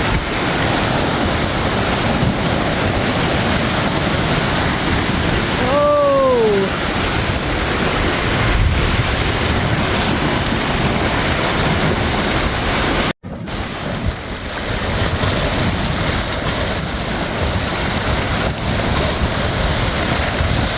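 Waves crash and churn inside a sea cave on a Costa Rican beach during the rainy season, a loud, continuous roaring wash close by with a brief dropout partway through.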